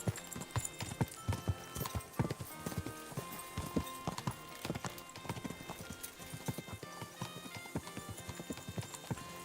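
Horse hooves clip-clop in an irregular, repeated rhythm with an occasional neigh in Kingdom Come Deliverance 2, close and fairly quiet, with no talking over them.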